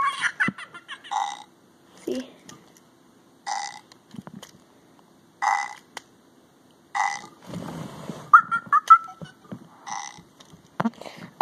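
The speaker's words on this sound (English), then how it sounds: "Oh, I really need a burp." A Fingerlings toy monkey lets out a comic electronic burp among its other chirpy toy sounds: short, fairly loud bursts repeated several times, with quiet gaps between them.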